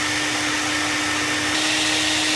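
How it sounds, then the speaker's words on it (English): Shop vacuum roaring steadily as it sucks up mahogany wood chips from turning on a small metal lathe, a loud continuous whine with a constant hum throughout. "You can see our chips are just getting mostly sucked right into the vacuum cleaner here."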